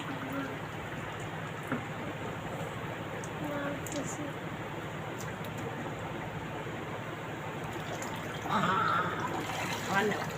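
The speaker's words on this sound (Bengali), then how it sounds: "আরিয়ান পানি ঢালতেছ বাইরের মাথায়?" Water being poured outside keeps up a steady splashing trickle for the whole stretch, close and continuous, with people talking over it.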